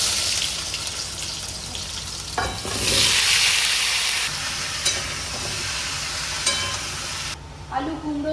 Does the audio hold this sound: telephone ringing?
no